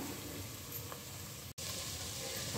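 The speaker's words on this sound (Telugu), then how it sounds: "ఉల్లిగడ్డలు, దాంట్లో కావాల్సినది మెంతాకు, పుదీనా వేసుకొని కొత్తిమీర మూడింటిని వేసుకొని బాగా వేయించుకోవాలి" Onions frying in a pan with fenugreek leaves, mint and coriander leaves give a quiet, steady sizzle. The sound holds even throughout, broken by one brief dropout.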